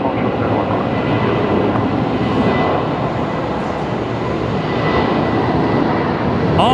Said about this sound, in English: Velocity 342 is the one departing now.